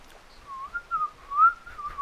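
A single person whistles a wavering, melodic tune in the video game In the Morning Turns to Ash. The whistle is clear and close, lasts about two seconds, and has no other sound over it.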